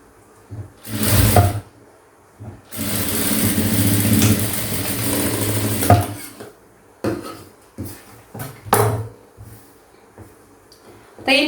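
A sewing machine stitching a quarter-inch seam through layered blouse fabric: a short whirring burst, then a steady three-second run, then several brief stop-start stitch bursts, with a person talking in between.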